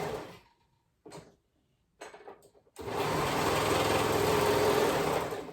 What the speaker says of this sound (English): So we're gonna go ahead and sew those shoulder seams together and move on.